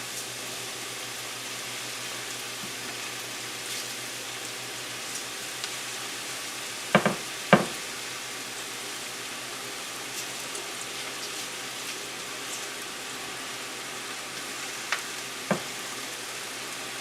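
Cabbage frying with noodles in a pan, a soft steady sizzle running throughout, with a couple of sharper clatters from stirring midway and faint taps near the end.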